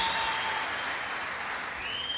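Audience applause, steady dense clapping from a crowd that fills the whole stretch at an even, loud level.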